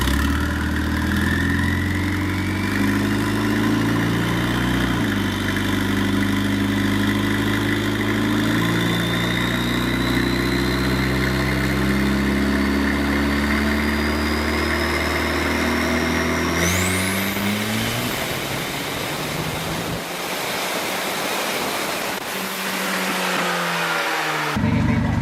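An 80s turbo car engine idles steadily and close, a low layered rumble with a rising whistle, then a shift in tone and rougher noise near the end.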